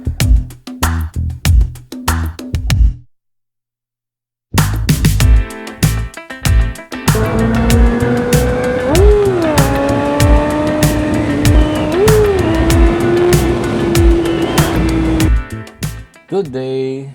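A big bike motorcycle engine revs loudly inside a tunnel, with sharp rising pitch sweeps and sustained roaring between blips; short bursts and a brief silence come first, then continuous revving that fades near the end.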